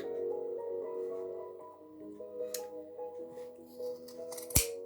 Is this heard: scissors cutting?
yes